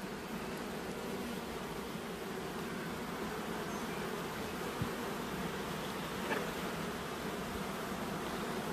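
A honeybee colony that recently swarmed buzzes steadily during beekeeping work on the hive, a dense, even drone of many bees close by, with no speech.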